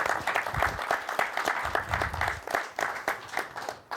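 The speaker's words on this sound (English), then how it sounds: "Round of applause" An audience at BCC gives a guest speaker a round of applause, close, lively clapping with distinct sharp claps throughout, a little uneven in strength.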